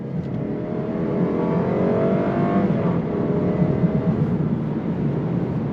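2025 Lexus IS 300 sedan with rear-wheel drive and the entry-level engine, accelerating on throttle: a steady, rising engine drone heard from inside the car that holds strong for several seconds, with no talking.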